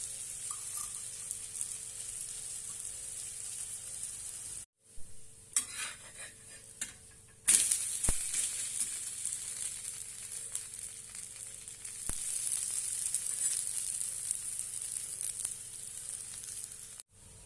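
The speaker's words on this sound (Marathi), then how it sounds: "आता आपण यावर तेल सोडूया आणि छानपैकी दोन्ही बाजूने भाजून घेऊया" Beetroot besan chila frying in oil on a pan, a steady close sizzle that runs throughout, with a brief drop near five seconds and a few faint utensil clicks along the way.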